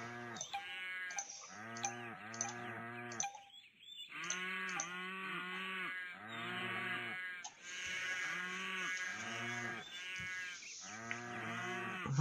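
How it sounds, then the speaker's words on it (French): A herd of cartoonish cows in a McDonald's management video game moo in repeated loud, overlapping calls, layered with bleating farm animal sounds and brief gaps between clusters. "Vos gueules, les vaches!"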